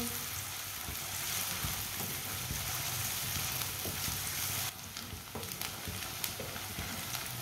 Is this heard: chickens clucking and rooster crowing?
no